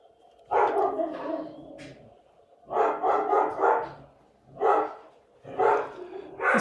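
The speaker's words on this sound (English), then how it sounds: "My dogs are going nuts." Several dogs bark in loud, overlapping bursts, four clusters of barking separated by brief pauses, fairly close and with no talk over them.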